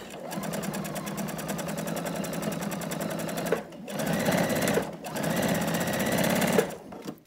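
A sewing machine stitches quilting lines on a denim raw-edge strip quilt block, with a steady, fast mechanical whirr running close and loud, broken by a few short pauses.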